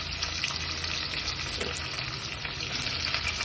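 Mustard seeds, cumin, curry leaves, onion and chilli frying in hot oil for potato palya, a dense continuous sizzle with crackling pops throughout, loud and close.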